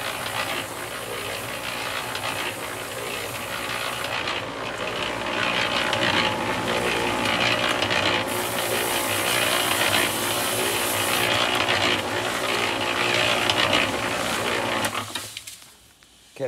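A cement mixer churning a lime cement mortar of sand and water turns with a steady mechanical clatter and rattle, loud and continuous for about fifteen seconds before cutting off near the end.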